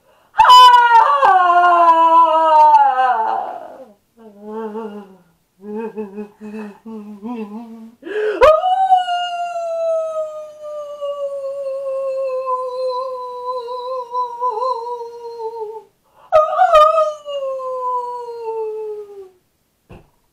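A person's voice imitates a wolf howl: long, loud, wavering howls that slide downward, with short yipping bursts between them and a final drawn-out howl that fades.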